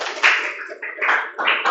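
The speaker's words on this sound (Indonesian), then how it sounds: "Tepuk tangan teman Anda." Students in a classroom applaud a classmate with a short, sparse patter of hand claps coming in a few uneven bursts, fairly close and brief.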